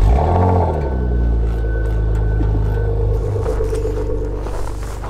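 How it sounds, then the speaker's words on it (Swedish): Car engine cold-starting in icy mountain weather, with a deep rumbling idle and strong low harmonics that settle into a steady drone, close and fairly loud, with no talking. "Ni får höra en kallstart, det får ni göra"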